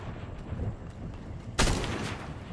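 Video game sniper fire: one sharp, fairly loud shot rings out over a busy, rumbling battle soundscape with faint distant pops.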